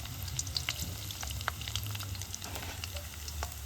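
Raw rice dropped into hot oil and frying: a continuous bubbling sizzle with scattered tiny crackles and pops, near and steady, with a low hum underneath and no speech.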